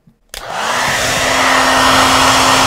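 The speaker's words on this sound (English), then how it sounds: "I'm blasting the sensor with the hairdryer" After a brief silence and a click, a hair dryer switches on and blows steadily at a sensor, loud and close, with a constant motor whine under the rushing air.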